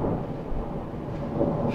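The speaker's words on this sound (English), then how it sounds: "Got some thunder going." Thunder rolls outside a travel trailer truck as a deep continuous rumble with a faint hiss of rain, steady and fairly loud for the whole moment, with no one speaking.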